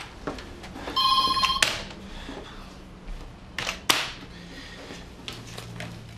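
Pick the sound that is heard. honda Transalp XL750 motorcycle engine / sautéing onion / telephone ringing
telephone ringing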